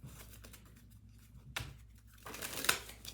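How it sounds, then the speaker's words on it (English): Cards are shuffled in a quiet room, a few soft riffling and crinkling bursts, the last one longer and louder, with faint rustles between them. "One more shuffle."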